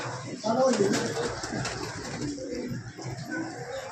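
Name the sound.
pigeons cooing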